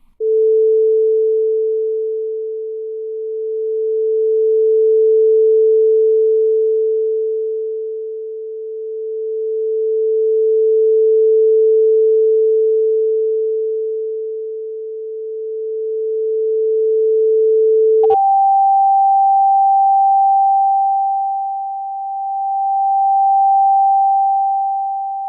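A loud, pure steady tone from a speaker that swells and fades in slow waves as the listener walks, then jumps abruptly to a higher pitch and keeps pulsing in level, with no voices.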